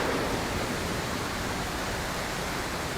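Steady roar of a waterfall at a mountain lake exhibit, a dense continuous rush of falling water with no pauses, fairly loud and close throughout.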